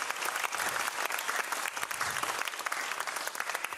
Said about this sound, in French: Des applaudissements pour les techniciens du CCF.